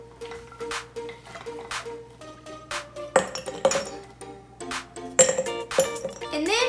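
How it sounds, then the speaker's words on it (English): Fruit-filled ice cubes drop into a glass of pink punch, giving a string of bright glassy clinks and pings, some single and some clustered, close and fairly loud over a quiet background. "To put this all together, we're gonna add our super fun ice cubes."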